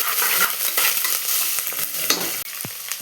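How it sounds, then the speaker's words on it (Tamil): Moringa leaves are stirred with fried lentils in a hot pan, a continuous sizzle broken by quick scraping strokes of a spatula, close and fairly loud with no voices. "நல்லா கிளறணும்"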